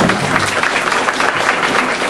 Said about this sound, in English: they clap for you